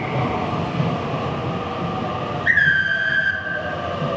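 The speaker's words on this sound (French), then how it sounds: "Ça c'est métro qui arrive là." A metro train arrives at a station in Mexico City: a steady, loud rumble of rolling stock fills the clip, and near the end a sharp high-pitched squeal or whistle rises over the noise.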